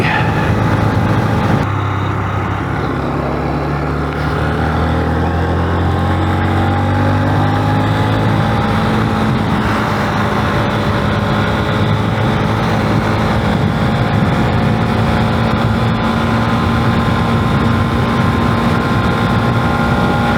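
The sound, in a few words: 2023 Honda motorcycle engine accelerating at speed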